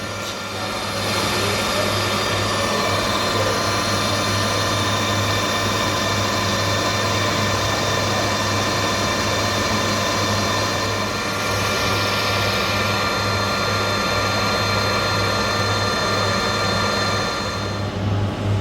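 Steady, loud mechanical whirring and humming of a lathe cutting metal, continuous throughout with a constant droning tone.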